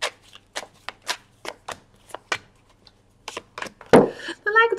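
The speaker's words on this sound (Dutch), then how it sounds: "Ga de kaarten schudden om te kijken wat deze week voor jou gaat brengen." Tarot cards are shuffled in short, crisp riffling bursts close to the listener, each followed by a pause, then a brief spoken phrase near the end.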